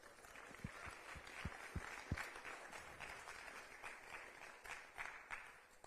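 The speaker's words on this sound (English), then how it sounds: "Let's have another round of applause for the CLBC members" Applause from an audience at a town hall meeting, steady and moderately distant, with scattered louder claps standing out over a continuous patter.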